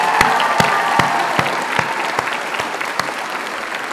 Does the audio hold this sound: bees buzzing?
no